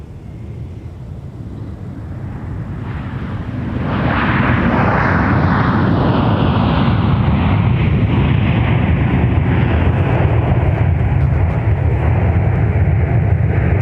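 American Airlines flight from Dallas arriving at MSP airport, a loud jet roar swelling in from about four seconds and holding steady and close, with some wind buffeting the microphone.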